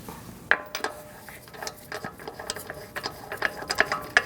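A socket ratchet clicks in rapid, uneven bursts up close, driving bolts on the front inner fender liner of a 2008-2014 Mercedes-Benz C300, with small metallic taps between strokes.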